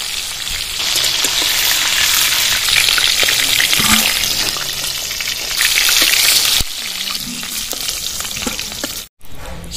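Rita fish sizzles loudly in mustard oil in a pan up close, a dense crackling hiss that drops briefly near the end with a short gap.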